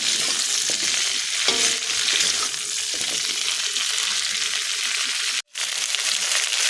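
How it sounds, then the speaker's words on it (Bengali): Chopped ripe red chilies fry and are stirred in a pan, a continuous close crackling sizzle with spatula scrapes that briefly cuts out near the end. "এবার এখানে দিয়ে দেবো আমি লঙ্কা কুচি, পাকা পাকা লঙ্কা। ভালো করে নাড়াচাড়া করে নেব।"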